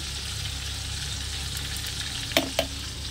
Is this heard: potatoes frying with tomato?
yes